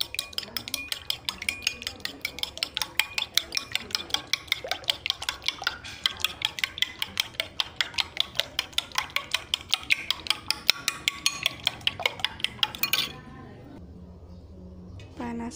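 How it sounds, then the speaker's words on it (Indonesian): Eggs are whisked quickly with a utensil in a bowl, giving a fast, steady run of clinking taps that stops abruptly near the end. "kocok telur"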